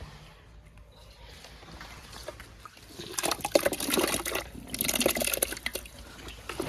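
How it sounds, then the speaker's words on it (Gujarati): Onions being washed by hand in a bowl or plate of water, with splashing and sloshing that starts quiet and grows busier and louder in the second half, close up with no talk. "હવે આપણે ડુંગળી પણ ધોઈ કાઢશું"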